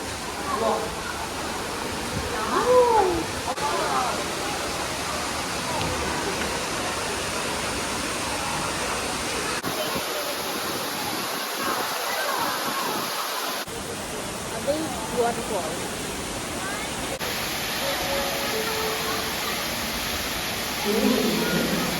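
Indoor waterfalls in the Cloud Forest dome in Singapore make a steady, broad rush of falling water that fills the whole span, with brief shifts in level and faint voices around.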